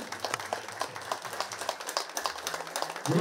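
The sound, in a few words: audience applause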